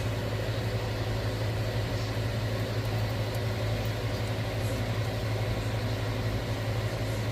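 An electric fan running in a kitchen while a pork stir-fry is cooked, a steady close whirring hum with a low drone, continuous and without talk.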